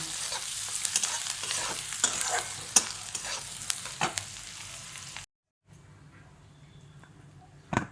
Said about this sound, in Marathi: छान कांदा परतून घेते आता